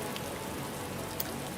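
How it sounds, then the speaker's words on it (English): Steady, loud rain pours down continuously with a dense hiss and scattered drop impacts, plus one sharper tap near the end; no one speaks. "'Cause for me the rain is very loud."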